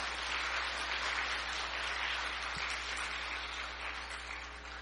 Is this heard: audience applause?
yes